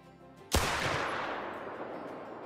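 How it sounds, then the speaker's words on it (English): Single sharp shot from a 45-70 single-shot pistol aimed at a bedded buck while hunting in Call of the Wild, a loud crack followed by a long rolling echo that fades slowly across open terrain. "let's go for a shot on this buck that's bedded right here at 260"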